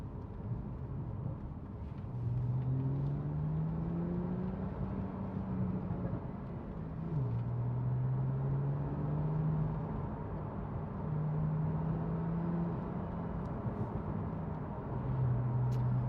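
A 2017 Porsche 911 Carrera 4 GTS exhaust, downshifted from third gear: a low, fairly quiet engine drone rises and falls in pitch several times, steady humming between swells.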